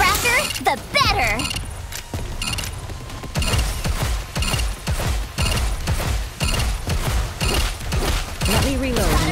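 Gunfire in Goddess of Victory: Nikke, with dense bursts of rapid shots and mechanical clacks repeating throughout at close range, mixed with game voices.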